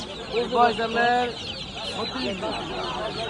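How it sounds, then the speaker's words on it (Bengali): Young native chickens about a month old cluck and chirp in repeated bursts at a rural market, close by, over a steady murmur of crowd noise. "বত্রিশ দিন বয়সের দেশি মুরগির বাচ্চা পেয়ে যাবেন আড়াইশো টাকা জোড়া"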